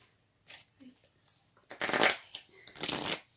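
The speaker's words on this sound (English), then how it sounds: "I'm shuffling this deck" A deck of angel answer cards being shuffled up close, several short riffling bursts separated by brief pauses, with the last two bursts loudest; a voice murmurs faintly at one point.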